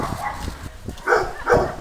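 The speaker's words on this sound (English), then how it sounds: "Dogs barked at this alarming sight." Dogs bark outdoors, two short, fairly loud barks near the end over a background of faint rustling, with no talking.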